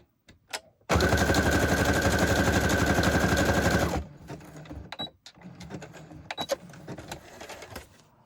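A sewing machine runs a wide zigzag stitch in one continuous, rapid, loud mechanical chatter lasting about three seconds, followed by quieter handling clicks and rustles.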